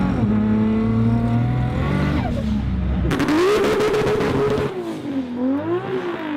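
Powerful six-cylinder car engine loud and close, idling with a deep throb, then revving hard and accelerating away with rising, wavering pitch and a brief burst of roughness.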